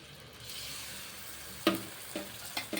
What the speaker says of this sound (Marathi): तेल घातलेलं आहे त्यामध्ये मसाला घालून घेऊया